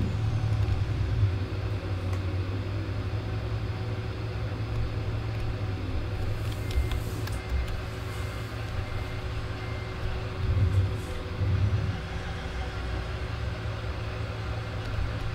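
A Freightliner Argosy truck engine in Euro Truck Simulator 2 rumbles steadily while reversing, its loud low drone continuous throughout, with a reversing beeper tone running alongside and brief surges in the engine note.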